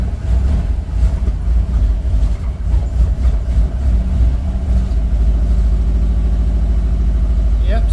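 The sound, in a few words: 1965 Dodge van engine starting and running on throttle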